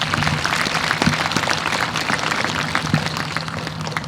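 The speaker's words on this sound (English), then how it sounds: "Let's give them a special round of applause." Steady applause from a large crowd at a school 9/11 remembrance ceremony fills the whole stretch, dense and even, with a few louder claps standing out.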